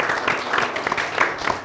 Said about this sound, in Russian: аплодисменты всем участникам.